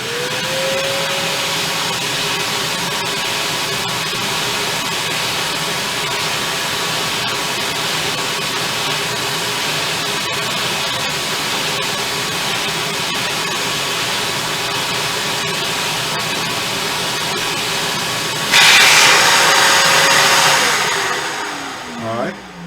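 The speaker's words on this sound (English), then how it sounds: "And now we'll vacuum this off." A steady, loud vacuum motor whine drones close by for a long stretch while vacuuming cleaning fluid off a vinyl record, with a brief harsher sucking rush near the end before it winds down.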